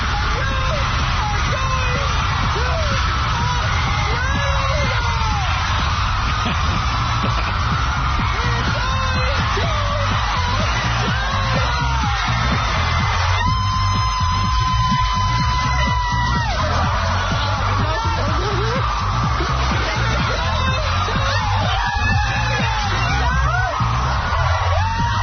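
A studio audience at a talk show host's last show screams and cheers in a dense, continuous roar, loud and close, with yells and whoops rising throughout and talk mixed in.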